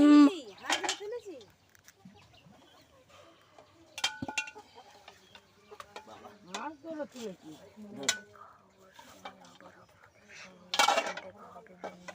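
Freshly washed metal dishes and utensils handled and set down in a rural household, scattered clinks and clatters near and far, with voices talking and occasional farm animal calls around.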